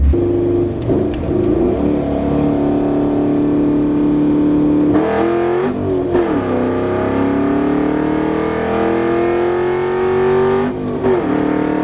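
A Ford Mustang running a 150-shot of nitrous pulls hard through the gears, a loud, close engine note climbing steadily in pitch, dropping sharply at each shift, then rising again.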